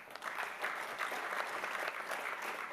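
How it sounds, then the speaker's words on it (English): A business summit audience claps steadily, a dense even wash of applause at moderate distance that continues throughout with no voices over it. "now that everybody's clapped 20 times"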